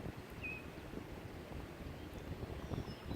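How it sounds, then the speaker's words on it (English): Wind gusts across a river while a kayaker paddles upstream against a swift current, a faint broadband rush and buffeting with no talk. "I'm gonna have to fight the wind."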